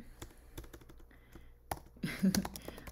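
Fingers typing on a computer keyboard in quick, uneven clicks and taps, close by, with a brief murmur of voice near the end.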